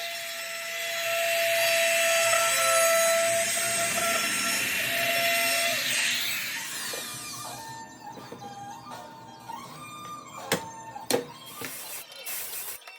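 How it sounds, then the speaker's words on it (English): A hand router whines steadily as it rounds over the sharp edges of wooden cornhole board frames, with the pitch shifting and a few sharp knocks toward the end. "Here I'm using a hand router to round over the sharp edges."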